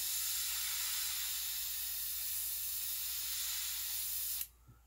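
An airbrush gun spraying paint onto a shad-pattern crankbait lure, a steady close hiss lasting several seconds before cutting off abruptly.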